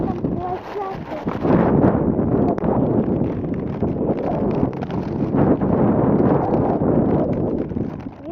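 Strong wind buffets an outdoor walk along a path, a steady loud roar and microphone rumble running throughout with gusty swells and no pauses.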